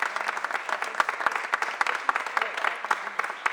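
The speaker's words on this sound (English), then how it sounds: "Give both of them a huge round of applause" Audience applause at a mayor's press conference, a dense patter of clapping hands filling the room with steady, fairly close claps and sharp individual hits, with a voice faintly audible beneath.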